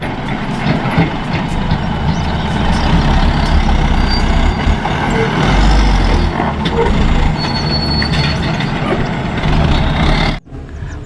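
A long toy truck gives off a continuous loud rumbling engine noise with hissing, brake-like bursts, close and dense until it cuts off abruptly near the end.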